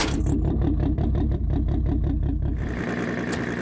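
A modified Volkswagen Passat with a 3.6-liter engine runs loudly up close, a rough pulsing idle with rhythmic revving for over two seconds before settling into a steadier, smoother hum.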